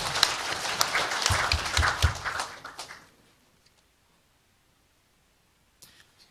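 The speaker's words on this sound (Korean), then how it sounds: "박수 부탁드립니다" Audience applause at a provincial policy debate forum, a dense burst of clapping for about three seconds before it abruptly dies away into near silence.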